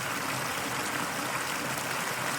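Close-up of a mountain stream: steady, dense broadband rushing and bubbling of flowing water, moderately loud and unchanging, with no voices.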